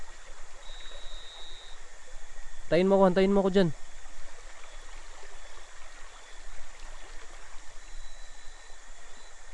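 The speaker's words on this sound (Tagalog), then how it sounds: "andito kami sa ilog ngayon," River water flows in a steady, even rush throughout, with a brief spoken phrase heard over it partway through.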